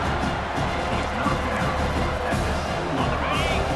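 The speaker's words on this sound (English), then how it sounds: "this big crowd doing everything possible to inspire this defense down here near the goal line" A big stadium crowd roars steadily and loudly in College Football 25 during a Louisiana Ragin' Cajuns vs. Notre Dame game, a dense wash of noise near the goal line with faint commentary underneath.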